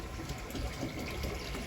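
Water flows through the chambers of a DIY pond filter, a steady close trickling rush with a faint constant hum underneath and no talk.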